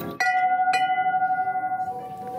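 A large bell is struck twice in quick succession, leaving a steady ringing tone with a gentle wavering pulse that slowly fades.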